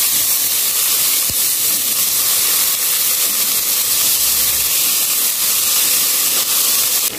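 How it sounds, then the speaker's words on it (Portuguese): Kale sizzles and hisses in a pan of hot olive oil and garlic as it is sautéed, a steady close broadband sizzle running unbroken throughout with no talking. "eu vou jogar a couve nesse alho e dar uma refogadinha"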